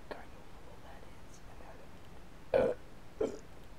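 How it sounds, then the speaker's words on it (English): Two loud, close burps at about 2.5 and 3.2 seconds from someone building a sword out of blocks in a game, rising out of a quiet room with soft background noise. "I just very much needed the burp."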